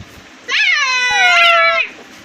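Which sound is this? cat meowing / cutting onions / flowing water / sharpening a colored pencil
cat meowing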